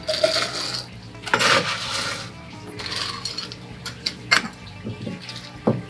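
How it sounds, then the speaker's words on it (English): Ice cubes added to a tiki cocktail, a few sharp clattering drops and rattles of ice against a glass or tin, close and intermittent. "then you can add more ice."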